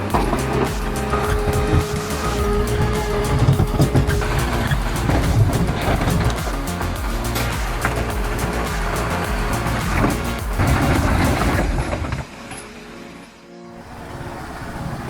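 A heavy tractor engine roars and revs continuously, loud and close, wheels spinning in mud, then cuts back near the end as the rumble drops away.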